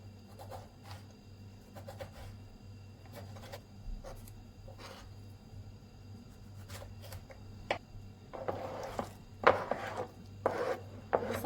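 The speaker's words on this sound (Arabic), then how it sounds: "كمان هيك البندورة بفرمها خشنة شوي." Tomatoes are chopped coarsely with a knife: faint, scattered taps at first, then a denser run of sharper knocks against the board near the end, all quiet and close, with no talking.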